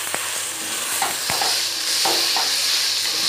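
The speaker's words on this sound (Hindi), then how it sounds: "ये मैं भूनूंगी अच्छी तरह" Crushed green chillies frying in a pan, with steady broadband sizzle and a few sharp clicks and scrapes from stirring.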